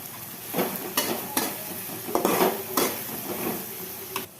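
Mint and coriander are fried with onions in a pan for mutton fry, a steady sizzle broken by a handful of stirring scrapes and clinks of a spoon against the metal pan, close by.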